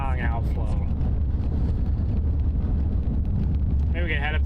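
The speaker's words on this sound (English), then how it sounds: "Very windy here." Strong storm outflow wind during an Iowa tornado threat, roaring and buffeting the microphone with a constant heavy low rumble, while a person talks underneath.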